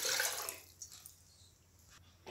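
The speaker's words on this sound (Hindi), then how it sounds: "अब इसमें एक गिलास पानी डालते हैं।" A glass of water poured into a pot set on a lit gas stove, making a short rushing splash that lasts about half a second and then gives way to near silence with faint drips.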